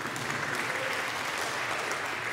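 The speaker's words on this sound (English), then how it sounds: "it is appropriate to take time to clap and to recognize him" A church congregation at First Presbyterian Church applauds its organist and choir director at his 30th anniversary celebration, with dense, even clapping that fills the room throughout.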